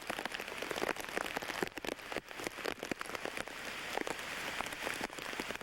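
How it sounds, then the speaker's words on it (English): Heavy wind and rain from Hurricane Bob in 1991 batter a house front, a steady dense roar of rainfall with gusting, continuous and fairly loud throughout, no voices. "But we do have quite a bit of wind and rain, as you can see."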